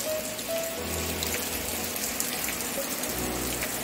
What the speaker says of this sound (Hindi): और देखिए बारिश भी कितनी हो रही है।